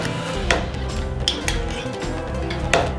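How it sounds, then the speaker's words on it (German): Spoon clinks against a pot or jar as spoonfuls of mustard go in for a sauce, a few light metallic taps and scrapes at close range, moderately quiet. "Wir nehmen jetzt einfach als Basis mal ein paar Löffel Senf"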